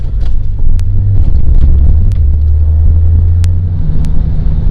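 Ferrari Mondial engine pulling under acceleration, a steady loud low rumble heard from close by with some wind buffeting and a few faint clicks.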